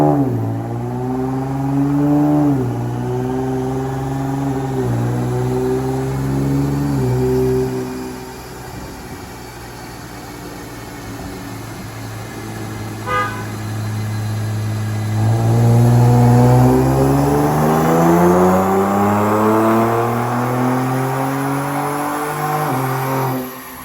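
Jeep Trackhawk with an aftermarket exhaust revving hard on a dyno, loud and close, engine pitch climbing through long sustained pulls, dropping back, then surging up again in a second strong run.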